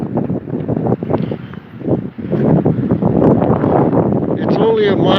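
Wind buffets a phone microphone outdoors in Hoboken, giving a rumbling, blustery roar that rises and falls under and between a man's speech.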